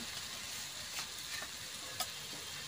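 Green chilies with onion paste and cumin paste fry in a pan for a village home dish of eggs cooked with lentils. A soft steady sizzle carries a few faint stirring clicks, with no one talking.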